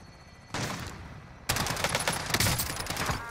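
Rapid gunfire in a Plunder-mode shooter game, a burst of shots followed after a short pause by a longer, denser volley of close, loud automatic fire.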